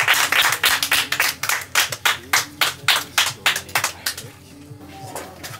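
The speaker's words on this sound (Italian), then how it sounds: "Applauso!" A small group claps at a party celebrating a million subscribers, a quick run of rhythmic, fairly loud claps for about four seconds, then fading out as voices and room noise continue.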